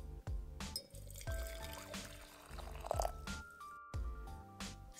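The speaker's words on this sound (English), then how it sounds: "First, you're going to preheat your teapot with hot water." Hot water goes into a teapot to preheat it, heard close as gurgling pours and drips with small ceramic clinks and resonant knocks over a few seconds, quiet and without speech.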